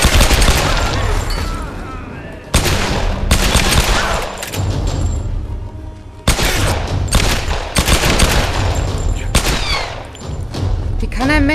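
Gunfire in the video game Tomb Raider 2013 rattles loud and close in dense bursts of rapid shots, with a few abrupt heavy blasts breaking into the sustained volleys.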